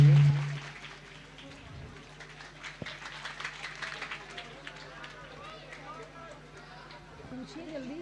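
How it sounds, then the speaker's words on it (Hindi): An audience clapping at a live Shri Ram Katha religious gathering in Saidanpur village, a steady dense patter of hands lasting throughout, with a voice speaking over it. "जोरदार ताली स्वागत कीजिएगा भाई जी के लिए।"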